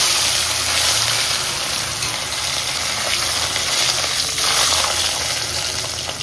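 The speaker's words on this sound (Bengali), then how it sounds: "এই যে এবারে গরম হয়ে গেছে তেল, দিয়ে দেবো মাছটাকে তেলের মধ্যে।" Fish rubbed with salt and turmeric hisses and sizzles steadily in hot oil, a dense close frying crackle lasting throughout with no talk.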